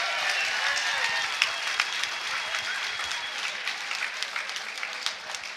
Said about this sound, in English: how about a round of applause for these two great warriors and one hell of an opening match